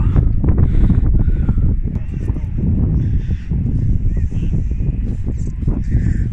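Strong wind buffets the microphone continuously on a cold seaside day in Skegness, a heavy low rumble with faint bird calls in the background.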